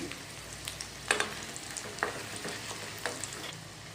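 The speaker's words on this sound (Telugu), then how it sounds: "మినపప్పు ఆవాలు ఫ్రై అవుతున్నప్పుడే మూడు ఎండుమిర్చి ఇలా తుంపి కట్ చేసుకుని వేసుకోవాలి" Mustard seeds, urad dal and broken dry red chillies frying in oil for a tamarind chutney tempering, a soft steady sizzle with a few sharp spoon clinks and stirring taps, close and quiet.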